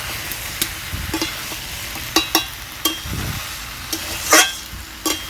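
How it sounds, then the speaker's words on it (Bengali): A pan of mixed monsoon vegetable curry stirred with a spatula: irregular scraping knocks and clinks over a steady close sizzle. "সবজিটাকে ভালো করে নেড়ে চেড়ে নিচ্ছি।"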